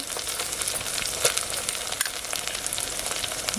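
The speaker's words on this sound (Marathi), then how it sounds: "परतून घेऊया गोडा मसाला आपला" Goda masala stir-fried in a pan over a village wood-fired stove for chicken curry, giving a steady close sizzle with soft scraping bursts and no voices.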